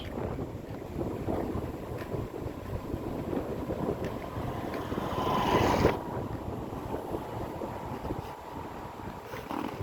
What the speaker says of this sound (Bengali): প্রচুর বাতাস বইতেছে বন্ধুরা ভিডিওটা যখন করতেছি দেখেন বাতাস